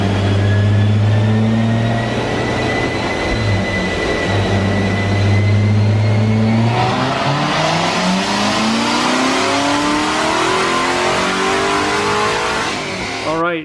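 Corvette C7 Z06 V8 with an X-pipe exhaust, loud and close, holding a steady drone before revving up hard and climbing in pitch for several seconds, then cutting off.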